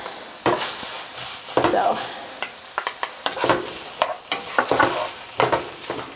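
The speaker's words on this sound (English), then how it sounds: "I'm going to add in my onions and I'm going to let the onions cook for a few minutes" Onions and garlic sizzle and fry in a pan as nachos toppings cook, with steady broadband frying noise broken by repeated scraping stirs; a voice speaks one brief word.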